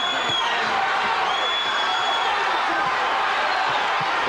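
Boxing crowd at the Toney v Nunn fight in 1991, a loud continuous roar of cheering and whooping filling the arena, steady throughout with a commentator's voice faintly mixed in.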